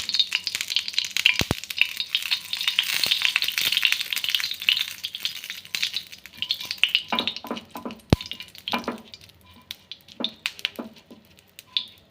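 Oil sizzles steadily in a paddu pan, a bright crackling hiss close by, with a few clinks and scraping stirs breaking in toward the end as the sizzle fades; no talking.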